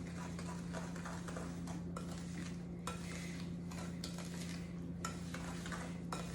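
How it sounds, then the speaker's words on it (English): A spoon stirs granulated sugar and eggs together in a bowl for peanut butter brownie batter, giving soft, steady scraping and clinking strokes over a constant low kitchen hum. "And I'm going to take my spoon and stir that together."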